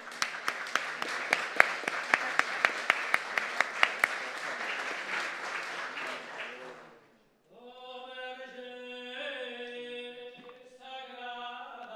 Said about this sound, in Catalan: rebem amb un fort aplaudiment el grup NOC